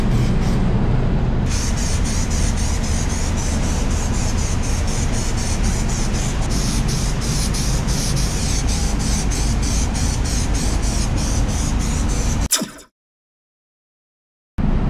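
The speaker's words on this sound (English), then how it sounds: "I'm just gonna go around all my edges with a very high temp reducer" A spray gun lays a steady, loud hiss of high-temperature reducer along the sealer edges of a car's pearl white paint job, running continuously for about twelve seconds before cutting off abruptly into silence.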